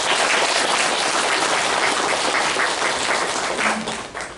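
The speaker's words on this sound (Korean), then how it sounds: "감사의 박수를 올려주시면 감사하겠습니다." A church congregation gives dense, sustained applause of thanks during a worship service, a loud continuous clatter of many hands that eases slightly near the end.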